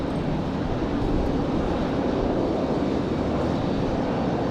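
A Boeing 757 jet departs Raleigh-Durham International bound for Atlanta, heard as a continuous broad roar of engine noise holding steady and fairly loud, with no speech over it.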